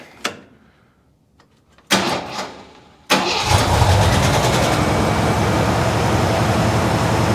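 A Jeep CJ5 engine with the choke not yet hooked up and worn spark plugs cranks in a couple of short bursts, then catches and settles into a loud, steady, slightly rough idle, close by.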